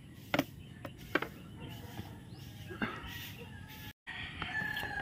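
Chickens cluck and a rooster crows amid outdoor farmyard noise, with sharp calls popping out over a constant background hum.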